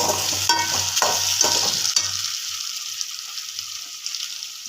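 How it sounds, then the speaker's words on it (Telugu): Taro root (chamagadda) cooking in hot oil for a pulusu, loud sizzling and stirring scrapes in the first two seconds, then a quieter fading simmer. "ఇప్పుడు చామగడ్డలు ఇలా ఆయిల్లో కొద్దిగా బాయిల్ అయిన తర్వాత"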